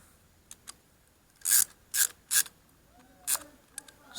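Short rasping ratchet strokes tightening a nut on a Suzuki DR 200 footpeg mount, a few close, brisk clicks in quick bursts followed by fainter metallic scrapes.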